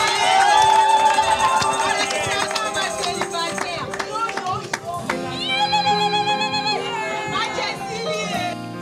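Crowd of guests at a Congolese wedding in Dallas cheering loudly with scattered clapping and shouts, a dense lively roar under loud music throughout.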